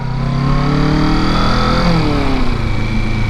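A Kawasaki Ninja 650 motorcycle pulling away on a hill as throttle is added with the clutch let out, its engine droning loud and close and rising in pitch over a few seconds.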